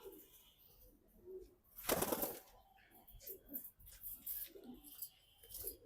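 Bangladeshi old-bloodline Naptha pigeons coo faintly inside a loft in Hazaribagh, Dhaka, quiet intermittent calls with one brief louder rustling burst like wing flaps partway through.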